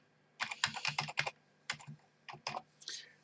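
Quick bursts of keystrokes on a computer keyboard while a player name is typed for a Minecraft server admin tool, close and crisp, in clusters separated by short pauses, no speech.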